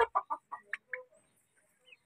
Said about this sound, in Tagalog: Tatapos na magpakain ng manok.